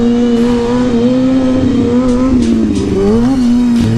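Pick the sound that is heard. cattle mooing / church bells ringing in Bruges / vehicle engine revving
vehicle engine revving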